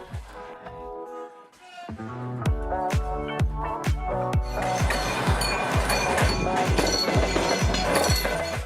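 A train rolls close by over rail joints, giving a rapid run of loud metallic clicks and clanks that build into a dense rattling roar.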